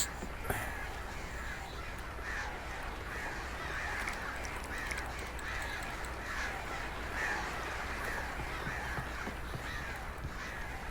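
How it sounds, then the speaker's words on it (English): Crows caw repeatedly in the video game Alan Wake Remastered, harsh calls recurring every second or so over a dense, constant outdoor wash of noise, with no voices. "birds are a pain in the ass."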